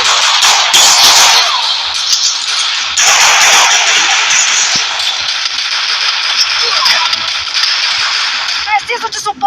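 Video game gunfire in dense, continuous bursts that stay loud and crackly throughout, with voices talking over the shooting.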